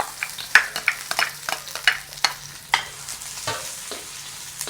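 Onion dropped into hot oil with cloves and cinnamon for a mutton curry, a sizzling fry with repeated scraping stirs of the spoon in uneven bursts, close up and without talk.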